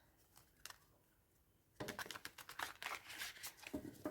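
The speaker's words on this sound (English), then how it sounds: "Let's shuffle it a little bit." Tarot cards are shuffled in quick riffling bursts of crisp flapping clicks, starting faintly and then loud and rapid, close up.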